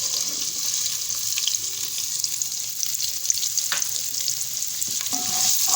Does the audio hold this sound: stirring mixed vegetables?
yes